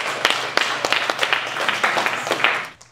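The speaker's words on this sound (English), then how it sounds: "Give them a round of applause" Meetup audience applause at a tech talk on real-time streaming with Kafka, a close, lively patter of many hands clapping steadily before tailing off at the end.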